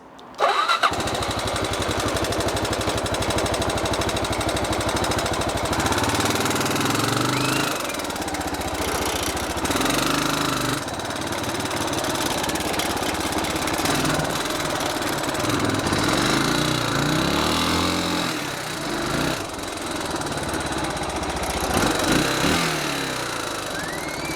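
A Suzuki motorcycle engine starts up and runs continuously, its revs rising and dropping as it rides downhill and back up, fairly loud throughout with no talking.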